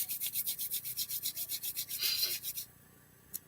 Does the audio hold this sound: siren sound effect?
no